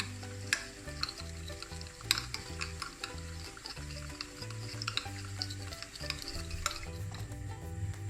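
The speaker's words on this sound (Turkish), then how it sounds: "Sosumu güzelce karıştırıyorum." Sauce with chili powder and rock salt being stirred, heard as soft, fairly faint scraping strokes and light clinks of a utensil against a bowl, with a low steady hum underneath.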